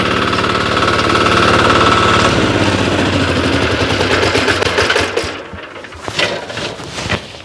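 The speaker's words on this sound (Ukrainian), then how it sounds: "гібридний мотоблок від агромарка АМГ" Heavy 14-horsepower AMG hybrid walk-behind tractor engine running close by with a loud, rough, rapid chugging throb, then dropping off sharply near the end, leaving a few clunks and knocks.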